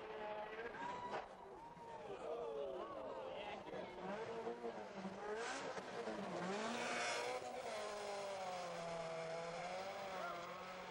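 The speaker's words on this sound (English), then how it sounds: "a rally car on a dusty road" A rally car speeds along a dusty dirt road, its engine roaring and revving continuously with shifting pitch and tire noise, loud and sustained throughout.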